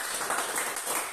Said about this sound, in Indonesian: untuk tepuk tangan dulu lah